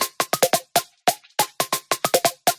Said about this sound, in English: in the original, there's this pretty sweet perky synth